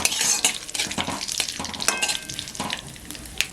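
Whole spices and curry leaves, cardamom and cloves, frying in oil in a kadai while being stirred, with a close, steady sizzle and repeated scraping and clinking of a spatula against the pan.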